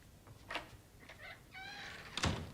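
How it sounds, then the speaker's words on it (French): A door is pulled shut indoors, with a couple of soft knocks and handle rattles before a firm, close thud at the end; a brief squeak or creak sounds just before the closing. "ferme la porte"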